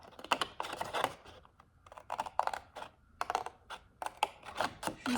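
Knife or blade cutting through cardboard along a marked line while making a Toblerone gift box, heard as a series of close, scratchy slicing strokes in irregular bursts with short pauses between.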